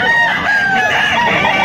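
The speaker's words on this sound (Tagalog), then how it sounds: "Yung mga ilan sa mga manok na naandun ito." A rooster crows loudly and close by, a long sustained call, with other chickens faintly audible behind it.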